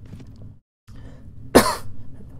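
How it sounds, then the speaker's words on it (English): A single harsh, loud cough bursts out close to the microphone over a quiet low hum and briefly hangs before fading. "Sorry for coughing."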